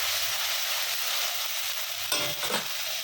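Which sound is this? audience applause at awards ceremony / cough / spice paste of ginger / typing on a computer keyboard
spice paste of ginger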